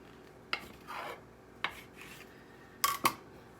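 A bench scraper chops through bread dough for dinner rolls on a work surface, making several sharp, close taps with softer scraping drags between them, two quick knocks near the end.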